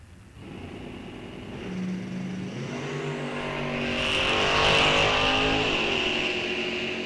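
Drag race cars launch at a bracket racing event, one of them a Camaro; engines roar up together from the line and swell to a loud peak before easing slightly as they pull away.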